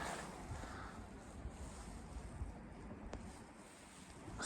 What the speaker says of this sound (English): Got a little creek running through there.